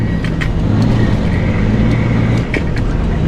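A semi truck pulling a trailer rumbles through a tight turn near a stop sign, its loud low engine idling and creeping along with a few sharp clanks and hisses.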